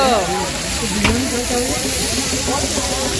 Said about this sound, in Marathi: फिश फ्राय होते